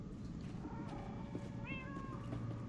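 A cat in Minecraft: Story Mode meows a few times with rising, wavering cries over a busy, steady background of low rumble and music-like tones.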